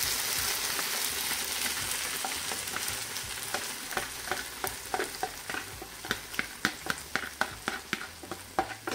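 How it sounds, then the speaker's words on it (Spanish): Fried tomato sauce with a little basil is added to meatballs in a pan on a ceramic hob, giving a steady close sizzle broken by frequent scraping stirs and clicks that grow sharper toward the end, with no talking. "le hemos frito la salsa de tomate, ¿vale? Así es que ahora se la vamos a agregar"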